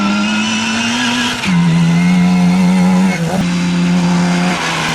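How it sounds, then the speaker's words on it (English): A Toyota Corolla touring car races in the 1968 Australian Touring Car Championship. Its engine is loud and close with a sustained high drone that drops in pitch twice as it shifts or passes, and the whine of other racing engines joins in. "Richard Thurston's Corolla is still at it."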